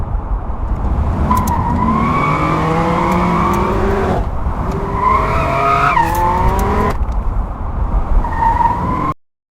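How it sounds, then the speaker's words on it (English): Generated sports car engine revving loudly with repeated tire skids and squeals, rising and falling pitch in bursts over about nine seconds, close and alone with no talk, then cutting off abruptly. "it can predict what car it is and aligns a sport car sound to the video"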